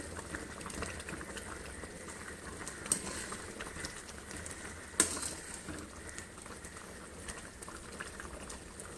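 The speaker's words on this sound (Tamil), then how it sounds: "குழம்பு இப்போ நல்லா கொதிக்குது" A pot of chicken curry bubbling and simmering steadily under a lid, soft continuous burbling with a couple of faint clinks, no voices.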